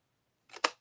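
A pair of scissors makes a single quick, close snip through paper during crafting, a short crisp cut after near silence.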